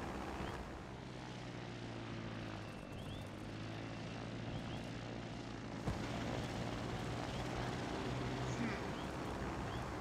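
Jet-engine biplane with many mini thrusters flying in the Trailmakers video game, a steady engine drone and whine held throughout, loud and continuous with no talk over it.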